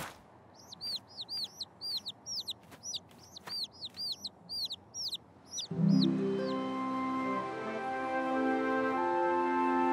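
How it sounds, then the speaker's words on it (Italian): Cartoon hens cluck in a quick run of sharp repeated calls over the first half, fading as a swelling orchestral music cue takes over. "Ecco i vostri pulcini."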